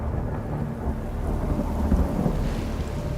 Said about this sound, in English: raising great storms across the planet